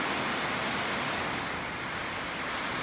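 Steady, soft hiss of rain falling, even and unbroken, with no voices.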